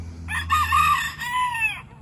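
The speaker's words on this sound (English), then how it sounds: "It's our little bantam rooster in the background." A small bantam rooster crows once in a chicken run, a clear multi-part crow lasting under two seconds over a low background hum.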